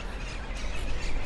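Brief burst of raucous, overlapping squawks from a flock of green parrots in a palm tree in Cartagena, Spain, harsh and steady against outdoor noise.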